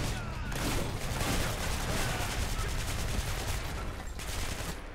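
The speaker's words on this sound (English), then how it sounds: "this assault rifle is really cool" Sustained rapid assault rifle fire from the video game Hatred rattles on continuously, dense and loud throughout, with brief dips in intensity.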